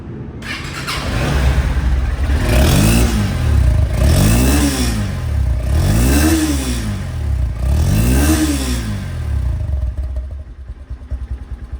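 A 2021 Honda X-Blade motorcycle engine revs repeatedly, four or five rising-and-falling surges over a steady idle, loud and close, then settles back down.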